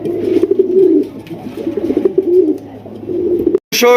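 A pair of large Black King pigeons coo in low, rolling bursts close by, repeating steadily over a few seconds before a brief pause and a sharp flutter at the end.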